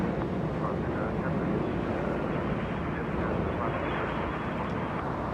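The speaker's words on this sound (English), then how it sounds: "That's Air France landing in the north. Flying in from Paris, that's the 777-300ER." Air France Boeing 777-300ER landing on the north side at Los Angeles International Airport, a steady broadband jet roar with wind rumble, sustained and fairly distant throughout.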